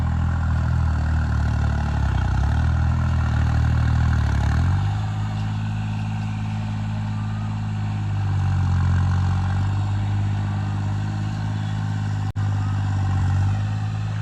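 The engine of a modified 3630 tractor working in a field runs as a steady, deep diesel drone. It sounds close and continuous, with a slight shift in load partway through and no talking.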